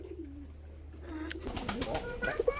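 Rajgolla pigeons, a red pair, coo low and steady at close range, then give way to busier rustling, flapping and chirping sounds from the loft.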